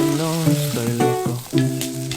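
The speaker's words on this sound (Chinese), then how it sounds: "加一勺猪油，放入姜片、鱿鱼和香菇炒干炒香" Ginger slices, soaked dried squid and shiitake mushroom pieces stir-frying in a spoonful of lard in a wok: a steady sizzle with tonal sounds running through it and no voices.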